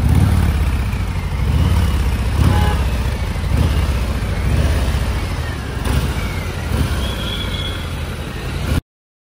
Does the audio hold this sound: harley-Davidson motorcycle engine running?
yes